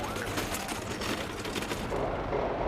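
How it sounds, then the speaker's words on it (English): Dense, continuous crackle of distant gunfire during an Israeli military raid in Jenin, heard from hospital grounds, rolling on without pause, a rough wash of overlapping shots with no voices. "Even the hospital grounds shake to the sound of gunfire."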